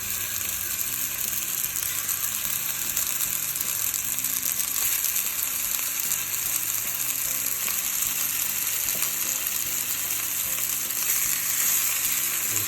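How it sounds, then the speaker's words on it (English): Venison steaks sear over medium-high heat in a cast iron pan, giving a loud, continuous crackling sizzle that stays steady from start to finish. "I like a good sear on the outside of the steak."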